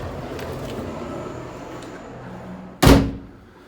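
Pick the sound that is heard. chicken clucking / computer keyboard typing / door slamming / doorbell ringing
door slamming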